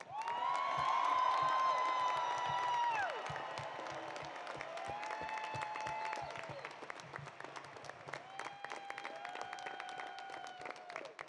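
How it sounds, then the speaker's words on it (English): Crowd in the stands at the 2016 SOMD Summer Games opening ceremonies, sustained applause and cheering from many people with whoops and shouts, loudest at first then settling into steady clapping. "Let me hear you applaud and cheer if you agree that we are among champions"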